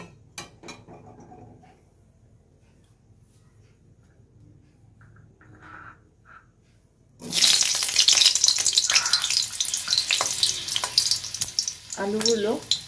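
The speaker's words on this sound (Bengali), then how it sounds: "এবার আমি কড়াতে আলুগুলো ভেজে নেব।" After a quiet start with a few faint clinks, potatoes hit a hot wok and burst into a loud, sustained sizzle that carries on to the end with some stirring scrapes.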